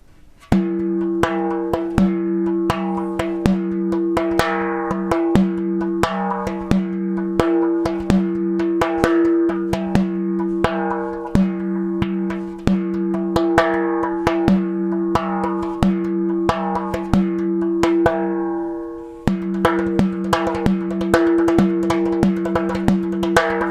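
Frame drum played in a repeating 3-3-2-2 pattern, steady ringing strokes with clear accents looping evenly for over twenty seconds, alone and close.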